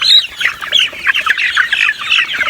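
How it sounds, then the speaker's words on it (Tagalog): Native chickens on a farm clucking and chirping in quick overlapping bursts, close and fairly loud, a continuous busy flock chatter without talking. "Parang native chicken."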